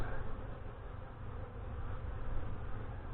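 Honey bees hum in a dense, steady buzz close by during an end-of-April hive inspection, a continuous drone with slight swells in loudness and no voices.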